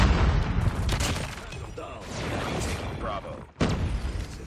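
Bursts of gunfire and thumping impacts from a ranked online shooter video game, rapid and fairly loud, with a brief drop to near silence before the shooting resumes.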